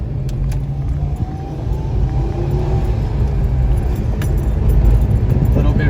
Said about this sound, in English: Try to listen for the intake, it sounds good.